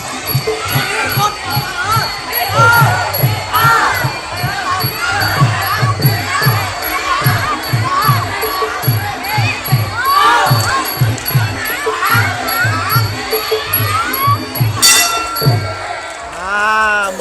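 A crowd cheers and shouts through a children's boxing bout held at a buffalo-racing fair in Chonburi, with a rhythmic drum or clapping beat, chattering voices and a sharp clink near the end, continuous and loud.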